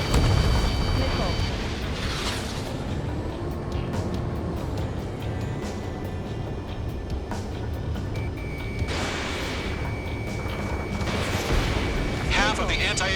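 Missiles streak and explosions boom in the Ace Combat 7 flight combat game, a dense roaring rumble with repeated whooshing blasts, while radio voices talk over the action.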